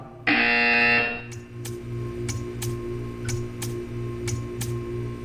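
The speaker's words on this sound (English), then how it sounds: "You will hear a buzzer." A harsh electronic buzzer from the video game Portal 2 blares for about a second, followed by a steady ticking of sharp clicks over a low hum.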